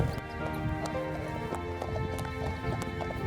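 Horses' hooves clip-clop on a path in an irregular rhythm, fairly close, with a faint background murmur.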